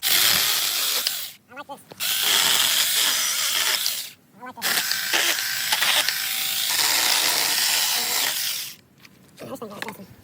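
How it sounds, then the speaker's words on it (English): A small chainsaw cutting wood on a construction job: a loud, close, buzzing motor that runs in long bursts broken by short pauses, with someone talking briefly during the gaps. "The best chainsaw in the world. Let's see what this bad boy can do."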